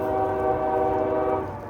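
A train horn sounds in falling snow in one long, steady, loud blast, its chord held evenly before easing off slightly at the end.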